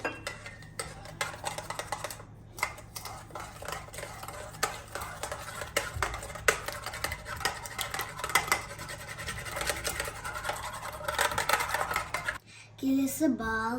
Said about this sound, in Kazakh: Қасықпен араластырамыз.